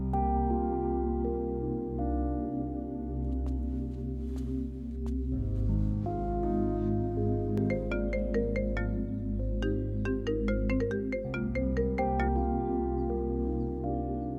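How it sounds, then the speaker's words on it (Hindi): A phone ringtone sounds for an incoming call, a loud, continuous melodic tune with sustained tones and bright repeating notes, playing alone without talk. "वो संतोष बार बार फोन कर रहा है।"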